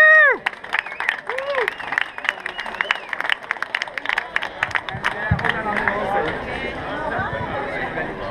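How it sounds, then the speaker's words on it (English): Audience applause for John Cummins, a politician, at a Dublin event, with scattered claps and crowd chatter; a voice talks over the start before clapping thickens into a fuller, steady round. "Give John Cummins,"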